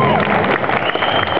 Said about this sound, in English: Ladies and gentlemen, give a round of applause.